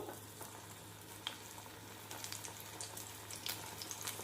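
Meal maker soy chunks for Manchurian frying in a pan with a soft, steady sizzle that runs throughout, broken by a few faint clicks and small bursts of bubbling oil.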